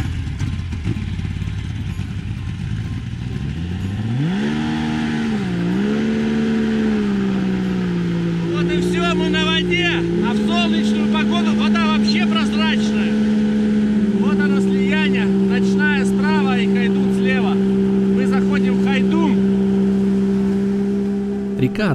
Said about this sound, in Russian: Запуск мотора после ночевки.